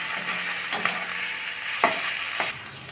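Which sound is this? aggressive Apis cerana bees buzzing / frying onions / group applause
frying onions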